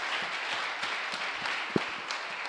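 A church congregation at a worship service applauds and cheers to praise God, producing a steady, dense wash of clapping that fills the room, with one sharper thump partway through.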